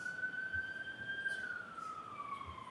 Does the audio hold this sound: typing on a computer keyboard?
no